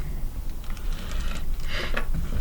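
A blade cuts open a plastic package of O-rings for a Holley carburetor rebuild, giving close, scratchy crinkling and rustling with quick sharp rasps toward the end.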